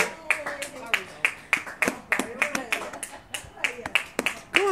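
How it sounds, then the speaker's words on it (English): A few hands clap in uneven, sharp bursts close by, with people talking underneath. "I'm clapping, I'm recording,"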